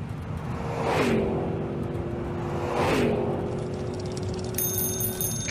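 A Toyota Prius hybrid car speeds off in pursuit. Two quick whooshing passes come about two seconds apart, then a thin ticking, chiming tone rises near the end, with no voices.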